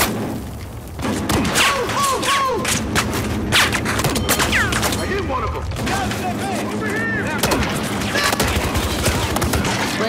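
Gunfire in the video game Battlefield: Hardline, a dense fusillade of shots and thuds running almost continuously under a player talking excitedly.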